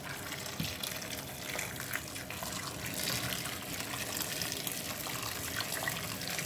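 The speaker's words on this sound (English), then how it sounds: "I'm going to top it up with some boiling water and then cover it with foil" Boiling water poured over curry lamb chops in a cooking pan, a steady close gushing and splashing pour that runs continuously for several seconds without talk.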